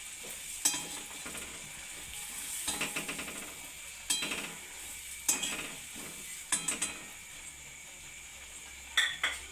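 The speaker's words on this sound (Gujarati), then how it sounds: "થોડો થોડો લોટ નાખતા જવાનું છે ને હલાવતું જવાનું છે।" Gram flour is stirred into a frying masala for stuffed kantola curry, a soft sizzle underneath and repeated bursts of spoon scraping and clattering against the pot, close and alone.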